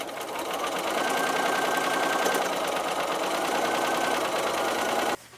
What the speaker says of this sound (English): I'm going to sew for the whole block, sew all of the triangles onto the strips.